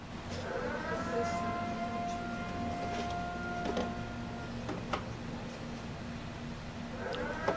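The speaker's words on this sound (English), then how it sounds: "that's a siren. And something's running." A faint, distant siren wails in a thin, rising and falling tone over a low mechanical hum, with soft ticks and knocks nearby and no talk.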